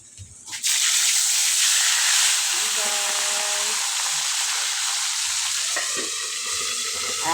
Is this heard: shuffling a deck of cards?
no